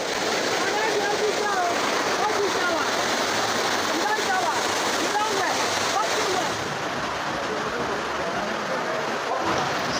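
Floodwater rushes in a loud, continuous torrent over a bridge during flooding in Leki, sounding close and unbroken across the whole stretch with no clear speech over it.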